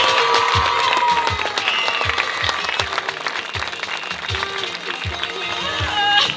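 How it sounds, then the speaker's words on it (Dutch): A large audience applauds a teacher at the end of a kids' musical performance, giving dense, sustained clapping with a beat thumping underneath, loud and continuous. "Dus ik wil een heel groot applaus voor mijn lieve juf Savannah."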